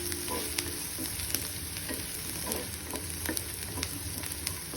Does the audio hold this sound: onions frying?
yes